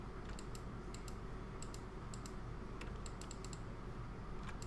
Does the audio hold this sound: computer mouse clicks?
yes